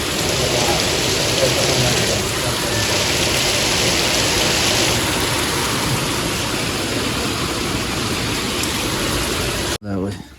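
Heavy rain pours down in a dense, continuous roar, loud and close, before cutting off abruptly near the end.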